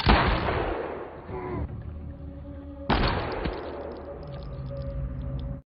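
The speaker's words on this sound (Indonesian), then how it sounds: "Lalu tembakan tersebut kembali menghantam Albert" Two sharp, loud bursts of film gunfire about three seconds apart, each leaving a long ringing decay, with a steady hum running underneath.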